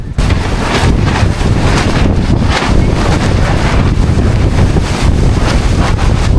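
Strong Kalbaishakhi storm wind blasts over the Jamuna river near Char Durgapur, a loud, continuous roaring buffet battering the microphone throughout with no voices.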